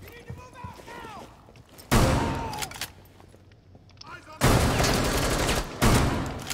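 SMG bursts in Rainbow Six Siege, two loud rapid-fire volleys with a couple of quieter shots before them, separated by a brief lull.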